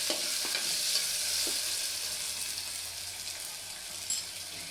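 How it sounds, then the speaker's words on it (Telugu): Fried onions, ginger-garlic paste and turmeric sizzling in oil for a goat head curry, a continuous hissing fry with occasional stirring clatters, close and unbroken by speech. "ఫ్రై అయ్యేలాగా కలుపుకోవాలి."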